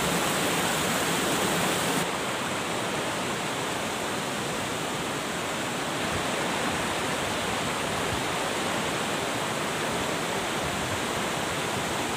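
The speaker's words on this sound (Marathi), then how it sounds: "बघा या ठिकाणी आपल्याला धबधबा दिसत आहे." Continuous roar of the tall Dugarwadi waterfall, a broad even rush of water heard close and loud for the whole stretch, alone without any talking.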